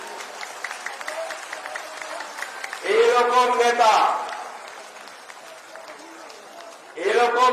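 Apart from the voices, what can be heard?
audience applauding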